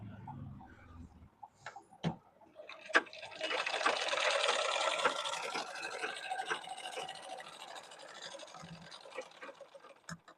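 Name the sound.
sewing machine stitching baby pants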